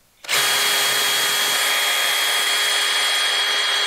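A power drill turning a reamer in metal starts abruptly and runs at a steady, loud, high-pitched whine for several seconds without changing speed.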